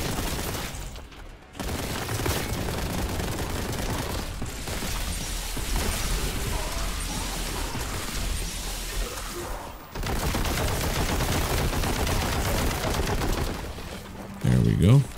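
Boltgun fire in Warhammer 40K: Boltgun, a dense, loud, near-continuous stream of shots that halts briefly near the start and again partway through before resuming.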